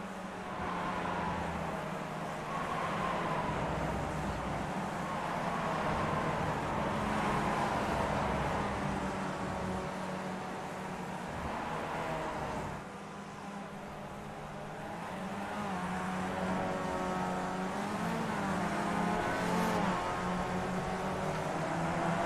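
Race cars lap Laguna Seca in a racing video game, their engine notes layering and sweeping up and down in pitch as several cars pass at a fairly low, continuous level.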